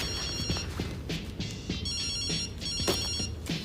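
A telephone ringtone chirps in a steady repeating electronic pattern, left unanswered, over a dull background hum with no talk.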